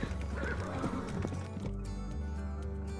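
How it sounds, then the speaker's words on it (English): A dusty horse whinnies loudly and its hooves clatter to a halt on a small-town market street, the neigh and clip-clop steady and close over a continuous low backdrop. "A messenger on a dusty horse skidded to a stop in the small town market."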